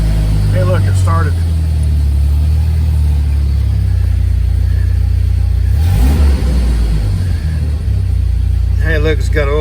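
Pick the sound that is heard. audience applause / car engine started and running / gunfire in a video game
car engine started and running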